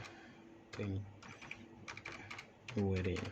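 Rapid bursts of keystrokes on a computer keyboard as a password is entered, close and clear, in two short clusters with pauses between, while people talk nearby.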